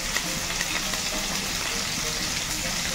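Potato pieces frying in hot oil for clay pot chicken give off a dense, steady sizzle with bright crackle throughout, close and even in loudness, and no talking.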